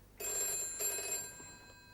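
An office telephone rings in a TV drama scene, a bright electronic bell sounding in two clear bursts close by, then fading away with no voices over it.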